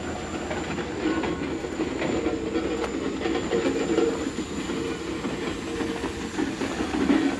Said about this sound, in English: This old diesel's pretty cool too. It's coming. It's coming slow.